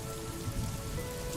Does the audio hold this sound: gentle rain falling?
yes